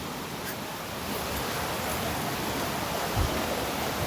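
A steady, unbroken rush of water pours down Kalchadi waterfall stream near Nemmara, Palakkad, a dense broadband roar that stays close and even throughout with no voices.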